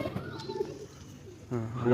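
Pigeons offered for sale at Sankrail, Howrah, give soft, close coos over a couple of seconds while someone talks nearby.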